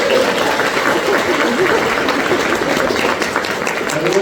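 Broad, continuous clapping from an audience at a sourdough and cheese showcase event, steady and fairly loud, with a faint murmur of voices mixed into the wash of hands.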